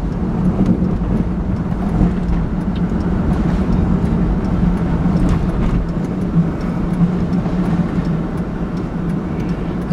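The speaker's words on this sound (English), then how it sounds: "The car's not nearly as noisy, I can tell that." A car climbs a smooth hillside road at steady speed, its engine and tyre noise forming a continuous, fairly loud drone close by, with no talk over it.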